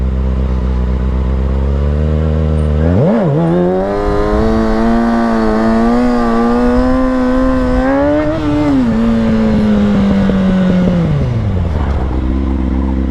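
Kawasaki 636 stunt motorcycle revving hard and riding during wheelie and stoppie practice, a loud near engine climbing sharply in pitch, holding high, then dropping as it eases off, no voices.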